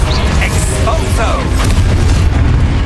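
A burst of blasting magic from the Expulso spell in Hogwarts Legacy: a deep, booming explosion with crackling debris, loud and close, layered over a dense game soundscape.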